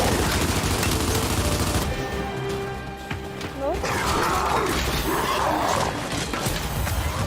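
Gunfire from a shooting fight in Gears 5 keeps going for about seven seconds, dense and loud, with other game sounds mixed in. Players talk over it.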